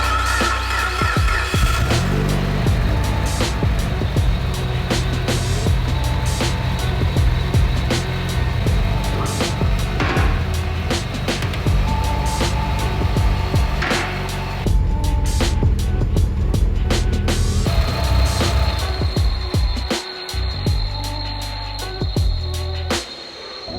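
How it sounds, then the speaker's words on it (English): A tuned Mitsubishi Evo making about 550 whp starts and idles after an oil leak fix, its loud engine rumble running steadily close by throughout, with a brief dip in level near the end. "So let's go ahead, fire this thing up and see if it leaks oil at all."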